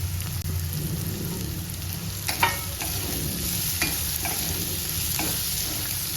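Cut green chillies with asafoetida and turmeric sautéing in a pan give a steady low sizzle, with a few sharp spatula taps and scrapes scattered through, close up and fairly quiet.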